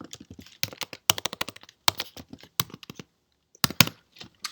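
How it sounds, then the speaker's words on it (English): Typing on a computer keyboard, bursts of quick key clicks with short pauses, close and clear, no talking. "I'm just gonna type in them"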